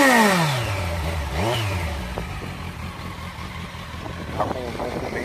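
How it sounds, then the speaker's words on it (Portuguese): A 2020 Kawasaki Versys 1000 with a Fariton 4-in-1 header, stock silenced tip, drops from a high rev into a low idle rumble, then gives a brief blip near the end, fairly faint. "Estou usando o coletor da Fariton, é a ponteira original, então ele está um 4 em 1. tem um silenciador, não tá full, mas mesmo assim tá com um ronco bem agradável."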